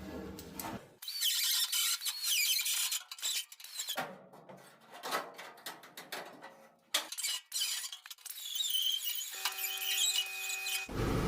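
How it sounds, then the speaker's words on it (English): A die grinder cuts vent holes into the dash of a 1967-72 Chevy/GMC C10 pickup, whining at high pitch in bursts, with pauses and shifting tones as the bit bites into the panel, ending in a steady tonal whir. "I'm going to take a die grinder, we'll cut this out."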